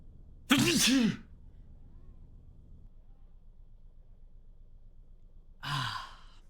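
A single sharp sneeze close by, followed later by a breathy exhale or sigh in an otherwise quiet room.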